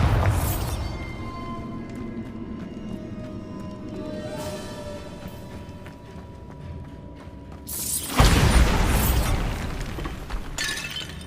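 A Bombarda spell goes off inside a tomb in Hogwarts Legacy: eerie tonal ambience and clattering first, then a sudden loud burst near the end that leaves a rushing, crackling tail. No one speaks.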